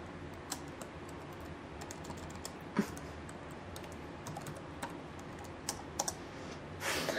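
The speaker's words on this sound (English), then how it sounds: "Let me type in my Wi-Fi password." A Wi-Fi password is typed on a laptop or PC keyboard: quiet, irregular key clicks with a few sharper taps, heard alone against a faint background hiss.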